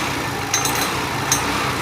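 A scooter idles with a steady hum while two sharp metallic knocks come from inside its faulty gearbox, spaced under a second apart.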